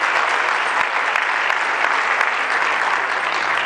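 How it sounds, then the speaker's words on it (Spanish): A church congregation bursts into steady, dense applause, many hands clapping together at an even level from start to finish with no voices rising above it. "David dale el aplauso si quieres al Señor."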